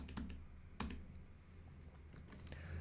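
Faint typing on a computer keyboard during a live web design build, with a few sharper key clicks scattered over a quiet, low background hum.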